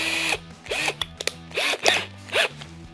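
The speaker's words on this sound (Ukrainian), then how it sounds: "Робимо невеличкий отвір. Ну, З такого досить буде навіть так, для демонстрації." A power drill boring a small hole for a bolt in a DIY fix: several short, close bursts of whirring, each rising and falling in pitch, separated by brief pauses and a couple of sharp clicks, without talking.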